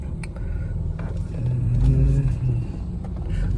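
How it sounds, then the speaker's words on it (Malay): Cars passing along a busy shortcut lane in Kelantan, a vehicle swelling in and rumbling by near the middle, with lighter traffic noise before and after. "Lorong ni memang sibuk sebab shortcut, banyak kereta."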